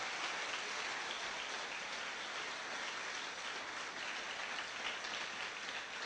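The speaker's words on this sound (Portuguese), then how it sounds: "Quantos podem aplaudir ao Deus poderoso de Israel?" A church congregation applauds in a dense, even wash of clapping that holds steady at a distance for several seconds, with no voices on top.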